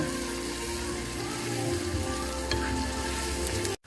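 Sambal bajak chili paste frying in a generous amount of oil, a loud continuous sizzle with stirring scrapes, running until an abrupt cut near the end.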